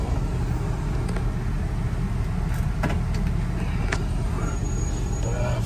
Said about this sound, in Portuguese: Agora eu vou manobrar pra ficar atrás daquele caminhão.